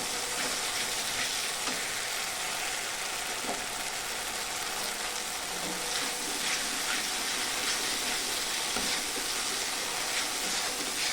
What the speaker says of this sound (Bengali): দেখুন মশলা থেকে তেল ছাড়তে শুরু করেছে আস্তে আস্তে। কষানো প্রায় হয়ে এসেছে মশলাটা।